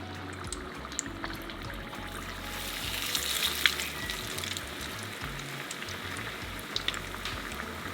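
Battered fish fries in hot oil with a steady dense sizzle and scattered pops and crackles, close by and continuous.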